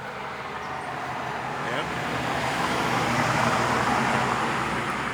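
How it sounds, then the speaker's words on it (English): Steady road traffic rumbles beside a garden of okra and lettuce, a continuous wash of passing cars that swells slightly midway, with a brief spoken word over it. "Sorry about the noise on the road, the traffic."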